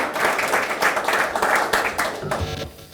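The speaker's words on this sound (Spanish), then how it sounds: "así que un aplauso más afectuoso" An audience at a university lecture presentation applauds the rector with a brief burst of clapping that rises quickly, carries on steadily, then thins and fades toward the end.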